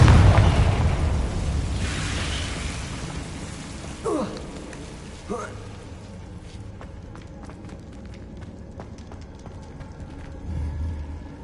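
A Confringo fire spell blasts in Hogwarts Legacy: a loud, close explosive burst at the start, then a couple of smaller pops and crackles over a faint lingering rumble.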